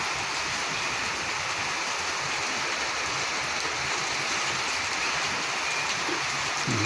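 Heavy rain falls steadily in Curitiba, a dense even hiss with no breaks, moderately quiet and continuous.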